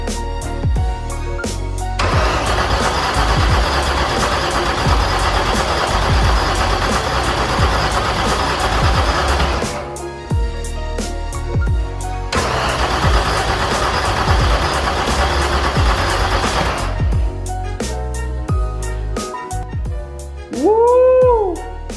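Volkswagen MK2 with a swapped VR6 engine running in a shop, two long stretches of loud, steady engine sound broken by quieter pauses, then a brief high whining sweep near the end; no speech.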